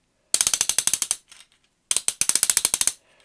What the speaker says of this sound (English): ratcheted ankle rotation